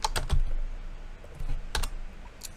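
Keys on a computer keyboard clatter in two short bursts of quick clicks while someone works at a terminal, close up and clear, separated by a brief quiet pause.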